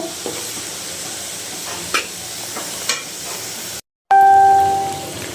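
Shrimp fry in a pan with a soft, steady sizzle, broken by occasional stirring scrapes. After a short gap, a brief loud hiss comes with a bright ringing tone that fades away.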